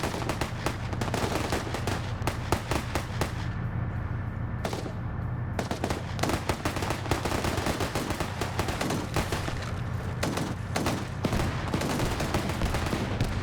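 Rapid bursts of autocannon and gunfire in a zombie campaign video game, dense overlapping volleys with brief pauses, loud and continuous throughout.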